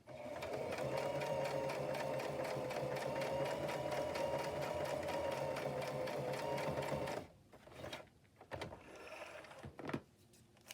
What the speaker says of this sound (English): I'm just going to sew one more, and that'll be it